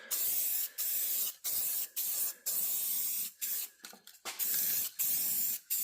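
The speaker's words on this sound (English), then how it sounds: "let me throw out a little rattle can on that" Rattle-can spray paint hisses onto a Ramcharger truck in a series of short and longer bursts with brief pauses between them, loud and close, with no voices.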